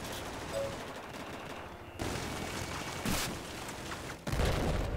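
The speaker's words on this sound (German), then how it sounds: "Erstmal an die Decke feuern." Gunfire in Battlefield 4 as a player shoots at an indoor ceiling: several loud bursts of rapid automatic fire separated by brief pauses, the last burst the heaviest.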